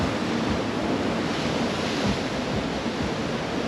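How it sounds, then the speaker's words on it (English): Ocean surf rolling in along a San Diego beach, a continuous loud wash of breaking waves close by, with wind buffeting the microphone and no voices. "the waves come right up here."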